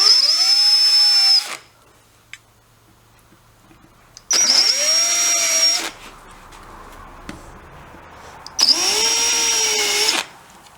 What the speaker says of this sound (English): now I'll cut them, or drill them I should say